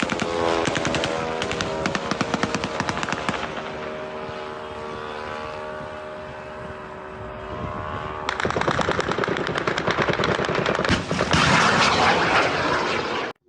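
Air defence gunfire over Moscow, heard as loud, dense, rapid bursts of shots that run on without a break and mix with a droning, engine-like roar. The sound is harsh, continuous and fills the whole scene, with no voices.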